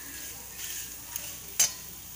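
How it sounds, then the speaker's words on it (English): Kova fries quietly in a pan while a utensil stirs it, giving a faint, soft sizzle with a few brief scrapes and one sharp clink near the end. "The kova has been fried."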